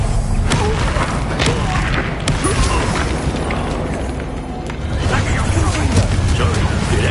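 In the Hogwarts Legacy video game, repeated Incendio fire spells burst with booming thumps and crackling blasts in quick succession, loud and dense, with voices mixed in.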